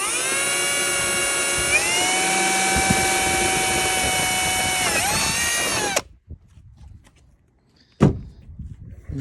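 Loud, sustained whine of a power drill cutting through a truck topper panel, running for six seconds and dipping in pitch before stopping abruptly, followed by a quiet pause and a sharp knock.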